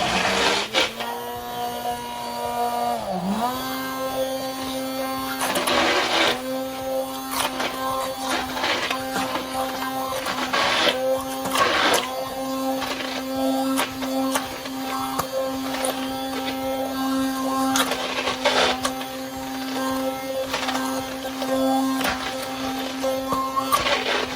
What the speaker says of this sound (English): This is the base, and we're just gonna blend it really quick.